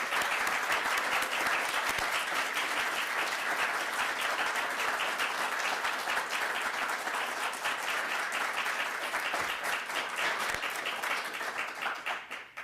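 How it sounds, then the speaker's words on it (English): An audience at a university School of Education distinguished alumni event claps for the honorees, a sustained round of dense applause that holds steady before tapering off at the end. "join me in giving our honorees a rousing round of applause"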